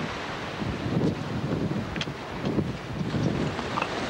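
Strong wind gusting and roaring across an open outdoor spot by a zipline, a steady broadband rush with swelling gusts and faint distant knocks, loud and continuous with no voices.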